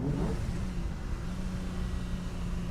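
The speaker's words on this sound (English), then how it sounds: "Now we're going to try and do a downshift, and for that we will double declutch." A 1950 Ferrari 166MM Le Mans Berlinetta engine rumbles steadily and close up while the driver double-declutches for a downshift, with a brief rev near the start and no talk.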